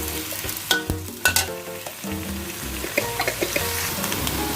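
Beef chunks and sliced onion stir-fried in a hot pan, a steady sizzle broken by several louder scraping stirs of the spatula, close up with no talk.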